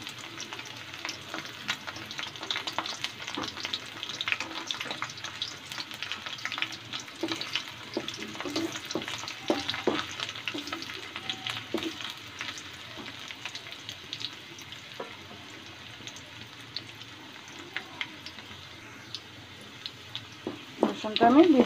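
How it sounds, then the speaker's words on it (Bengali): Chopped onion and minced garlic fry in a pan for fried rice, giving a steady, fairly quiet sizzle with scattered crackles and occasional stirring clatter that rises briefly near the end. "রসুনটা আমি ভেজে নেব হালকা করে।"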